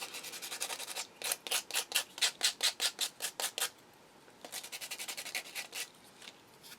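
A plastic spoon rubbed with 80 grit sandpaper, quick rhythmic rasping strokes in two bursts separated by a short pause, close and fairly quiet with no talk.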